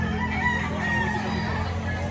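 A rooster crows nearby at a poultry sale, its long wavering call rising over steady background noise and a low hum.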